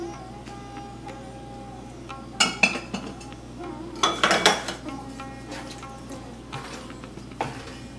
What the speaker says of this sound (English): Now add the boiled dal and mix it with the spices.